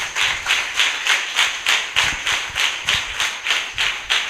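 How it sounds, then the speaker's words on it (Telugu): A church congregation claps in praise, loud steady rhythmic claps repeating about every third of a second, evenly paced with no talk over them. "గట్టిగా చప్పట్లు కూడా దేవుని స్తుతిద్దాం."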